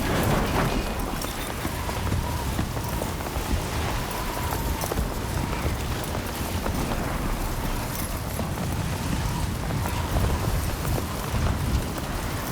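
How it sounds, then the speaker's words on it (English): A sandstorm in the video game Death Stranding 2, with lightning in the area: a steady, loud roar of gusting wind and a hiss of blowing grit that holds for the whole stretch, with no talking. "Storm's coming through."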